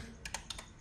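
Typing on a computer keyboard while entering an Excel formula: a short burst of five or six quick, soft key clicks, close and quiet against a faint hum.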